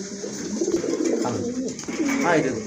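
Pigeons coo close by in a pigeon sale setting, soft throaty rolling calls repeating over a brief stretch, with someone talking over them.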